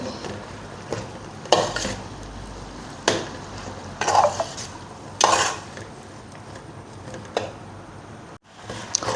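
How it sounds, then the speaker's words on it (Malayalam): Carrot, bitter gourd and raw mango pickle being stirred in a pot, with repeated scraping and clinking strokes of a spoon against the vessel, close and fairly loud, over a soft background hiss. "നല്ലപോലെ മിക്സ് ചെയ്ത് കൊടുക്കണം"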